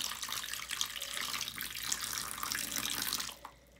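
Water pouring from a tap into a Soggy Doggy toy, a steady splashing gush that cuts off abruptly near the end.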